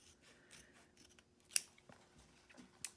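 Scissors snip and trim fabric near the stitch line of an in-the-hoop embroidered zipper bag, a few quiet, close cuts with light rubbing and handling in between.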